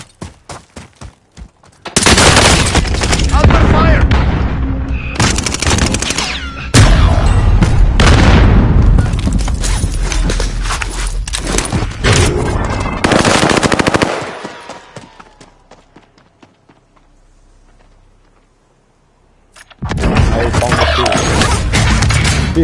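Gunfire and explosions in the video game Warzone, loud bursts of rapid machine-gun fire and booming blasts. Sharp crashes separate the bursts, a quieter lull sits in the middle, and voices speak between the bursts.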